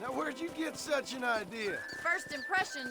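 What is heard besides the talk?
No everyday noise stands out behind the speech.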